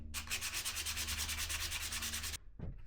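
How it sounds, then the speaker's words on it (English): Steady rhythmic strokes of hand sanding on wood, a close, continuous scratchy rasp lasting over two seconds before stopping, followed by a brief softer rub. "Time to do a little more hand sanding."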